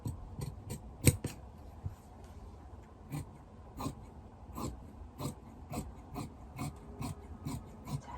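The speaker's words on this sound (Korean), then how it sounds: "곡선을 자르실 때는 굉장히 가위를 천천히 자주자주 이렇게" Fabric scissors make slow, frequent short snips while cutting cloth along a curved line for a child's pajamas, a quiet, close series of crisp cuts with light rustling of fabric between them.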